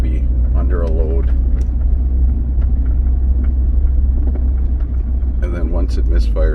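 A 2014 Mini Cooper's engine with a misfire rumbles low and steady inside the cabin during a road test, with voices talking over it.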